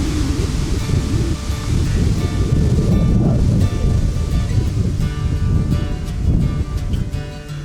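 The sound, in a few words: strong wind blowing outdoors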